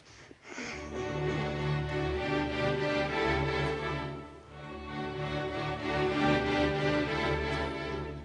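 A full orchestra plays a steady, repeating three-note accompaniment figure opening the first movement of a Sibelius symphony, rich and sustained, swelling slightly partway through with no voices.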